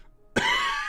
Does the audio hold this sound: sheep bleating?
no